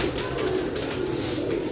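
Sialkoti pigeons coo in a low, continuous murmur that sits close and steady, with a faint hiss of background ambience.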